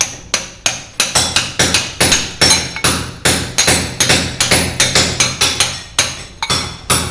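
Hammer blows striking old floor tiles set in old cement during kitchen renovation work, a rapid series of loud, sharp cracks and clinks repeating steadily, close by with no voices.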